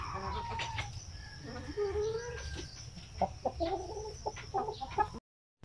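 A brooding hen clucks in low, repeated murmurs close by while sitting on her eggs, with other chickens calling and a rooster crowing faintly in the background.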